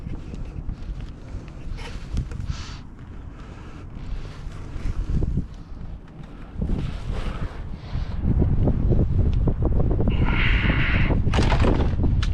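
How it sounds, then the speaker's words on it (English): Wind buffeting a microphone outdoors beside a Honda Rebel 1100 DCT motorcycle, a loud rumbling roar that swells and gusts, growing heavier toward the end. "God fucking wind."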